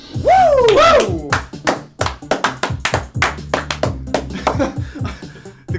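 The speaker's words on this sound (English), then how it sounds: "The claps just kept going" Hands clap in a studio in a quick, uneven run of sharp claps right after a rising, whooping voice, with the clapping carrying on to the end.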